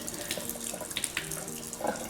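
Steady running water from a tap splashing into a sink while sprouts are rinsed, with small clatters and rinsing splashes.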